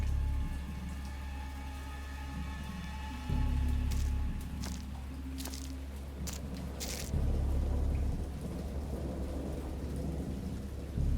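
A thunderstorm in the game Dagon: steady heavy rain patters on surfaces while deep rumbles of thunder roll in twice, loud and low, with scattered sharp drips and cracks.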